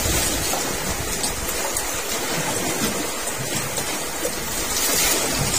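Rain falling at sea around a small fishing boat, a steady broadband hiss of drops on water and deck, loud and unbroken for the whole stretch with no voices.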